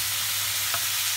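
Zucchini and guanciale fry in oil in a pan, giving a steady, dense sizzling hiss that stays close and even throughout, with no talking.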